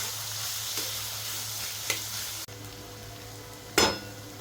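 Chopped onions fry for egg bhurji in a pan with a steady, low sizzle, broken by a few scraping stirs of the spatula, the last one louder and closer.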